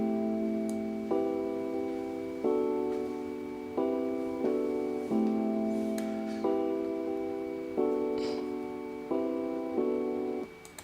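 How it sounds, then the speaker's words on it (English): An electric piano in an Afrobeat-style beat repeats soft, evenly spaced chord stabs in a steady loop over a faint sustained tone and light background hiss. "I started off with an electric piano"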